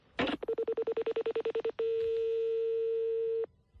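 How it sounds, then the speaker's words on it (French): Telephone keypad tones beep in a rapid even run of about thirteen short notes while a number is dialed, followed by a longer steady tone, all clear and close with no talk. "Je peux l'appeler"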